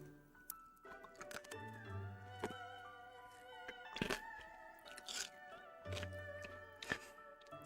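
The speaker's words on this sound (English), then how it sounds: "Do you guys like to chew your candy canes," Crisp crunching and chewing of a strawberry candy cane, close and intimate, with repeated sharp cracks and sticky mouth sounds over several seconds.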